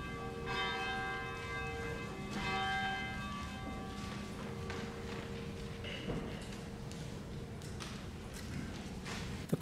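A church bell rings out at the start of a Sunday worship service, its resonant strikes sustaining and overlapping as a continuous ringing that fills the room.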